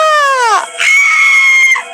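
A woman's shrill scream as a horror-story sound effect, a falling wail that breaks off, then a second long, high, strained shriek held loud and close.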